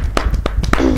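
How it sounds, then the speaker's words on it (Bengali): A few hand claps ring out in a quick, uneven burst of four sharp slaps, close and fairly loud, with a brief voice sound at the end. "ক্ল্যাপ, হাততালি দাও।"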